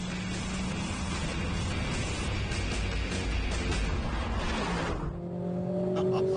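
Mercedes-AMG A45S accelerating hard out of corners to just over 7,000 RPM, a loud, dense engine roar sustained throughout, easing off near the end as a cleaner tone takes over.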